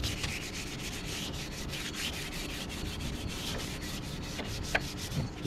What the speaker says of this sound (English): so we're gonna use sandpaper. So I got a leftover piece of 220.